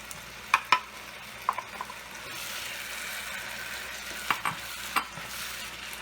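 Jalapeno stir-frying in a pan for vegetarian stir-fry pasta: a steady soft sizzle with a few sharp clinks and scrapes of a utensil stirring, moderately close and alone.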